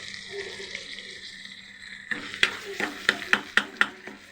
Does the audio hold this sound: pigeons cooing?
no